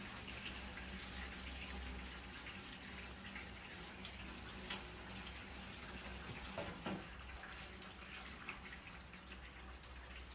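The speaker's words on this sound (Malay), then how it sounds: "saya letakkan air pipe untuk basuh ataupun bilas kobis tadi" Tap water runs steadily over Chinese cabbage leaves as they are rinsed, a continuous broadband splashing hiss with a few faint knocks, at low level throughout.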